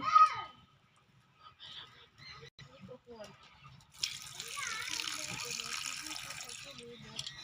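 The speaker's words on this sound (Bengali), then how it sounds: "আমি এই চিংড়ি শুটকি মাছগুলো গরম জল দিয়ে ধুয়ে নেব" Dried shrimp being washed in hot water at a kitchen sink, running water rising into a steady splashing wash that continues for several seconds, preceded by someone speaking briefly.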